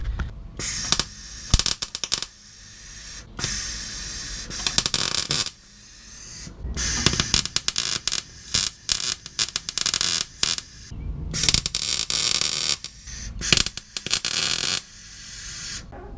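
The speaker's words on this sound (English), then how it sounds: "Here is some welding." Welding on a gutted Lexus SC drift car interior: bursts of crackling, sputtering arc noise in short irregular runs separated by brief pauses, loud and close with no talking.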